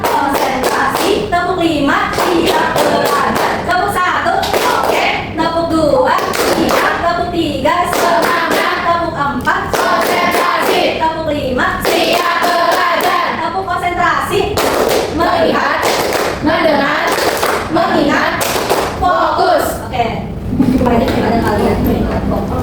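Classroom rhythmic concentration clapping game during a microteaching lesson, with loud, close hand claps in counted patterns mixed with a teacher and students calling out responses throughout.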